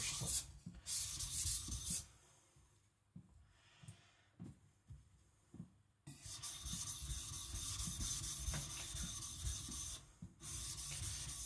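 A Tojiro white steel shirogami nakiri knife is thinned by rubbing it against an abrasive, steady close scraping strokes in two bursts separated by a quieter stretch of lighter intermittent rubs.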